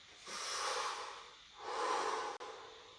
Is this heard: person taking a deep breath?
yes